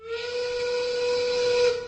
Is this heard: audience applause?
no